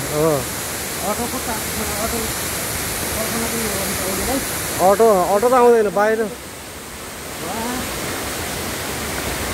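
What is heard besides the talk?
waterfall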